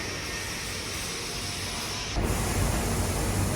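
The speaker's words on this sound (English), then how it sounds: "This robot here welds the chassis" Steady mechanical hiss and hum from an industrial robot welding a truck chassis in a factory, continuous and loud, turning rougher and heavier partway through as the welding noise intensifies.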